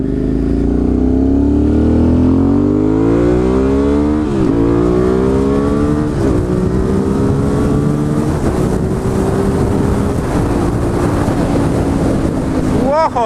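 A loud motorcycle engine revving while riding after winter storage, rising and falling pitch with repeated gear-change dips, close and continuous under heavy wind rush against the microphone.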